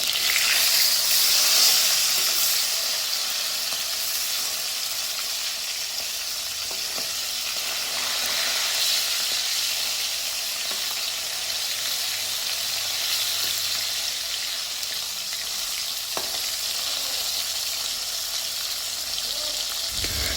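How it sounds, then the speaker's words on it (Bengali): Bata fish pieces fry in hot oil and are turned side to side, for a village-style bata fish curry with winter vegetables. A loud, steady sizzle carries on without a break and no one speaks. "এখন আমি মাছগুলো এপাশ ওপাশ ভালোভাবে ভেজে নেব, যাতে মাছটা তরকারির মধ্যে দিলে ভেঙে না যায়।"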